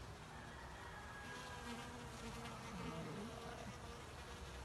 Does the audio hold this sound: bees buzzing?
yes